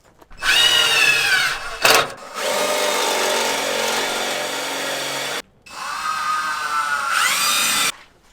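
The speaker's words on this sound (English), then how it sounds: "I'm gonna mark out the holes to drill to mount these two coolers" A power drill whines through several bursts, spinning up and biting into material while drilling mounting holes for oil coolers on a diesel square-body truck, with short pauses between runs, loud and close.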